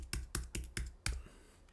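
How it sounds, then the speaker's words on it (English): Five distinct key taps on a computer keyboard as a mobile number is typed in, spaced about a quarter second apart with a longer gap before the last, close and clear with no talking. "Going to type in my mobile number."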